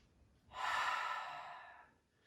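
A single slow, audible inhale through the nose during a yoga arm stretch swells for about a second and a half, then fades; it is close and quiet, with no talk.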